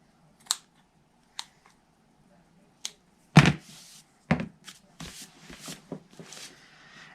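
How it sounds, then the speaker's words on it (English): Scissors snip through doubled white ribbon, sharp isolated clicks at first, then a louder close cut followed by soft rustling handling sounds, with no talking. "I'm just going to cut that off."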